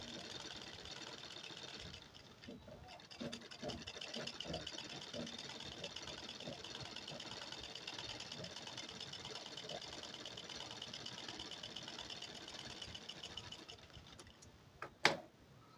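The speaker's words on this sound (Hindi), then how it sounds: "अब हम इस पर सिलाई लगा लेंगे जो यहाँ से है कट।" A sewing machine stitches a lined blouse, humming steadily at close range for most of the clip. The needle ticks lightly under the running motor, and a sharp knock comes near the end.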